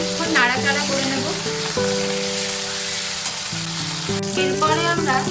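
Chopped capsicum and tomato frying in oil in a pan, stirred with a utensil: a steady, loud sizzle throughout, with scraping stirs breaking through at a few points.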